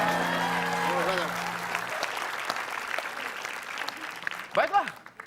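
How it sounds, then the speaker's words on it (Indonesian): Studio audience applause for an invited expert on an Indonesian comedy show, steady clapping filling most of the clip before fading, with voices talking over it toward the end. "tepuk tangan untuk pakar"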